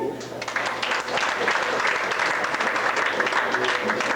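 Dense applause from a crowd at an evening party for team members, continuous clapping throughout with some voices blended into the noise.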